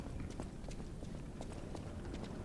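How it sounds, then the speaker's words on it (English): Footsteps in the video game Lies of P, a quick steady patter of step sounds inside the Rose Estate, running continuously at moderate loudness over a dense game ambience. "I hear footsteps."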